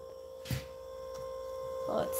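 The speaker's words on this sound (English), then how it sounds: "Do you hear how loud this fridge is?" A refrigerator in an old store gives off a loud, steady tonal hum that runs the whole time, with a couple of brief bumps and rustles on top.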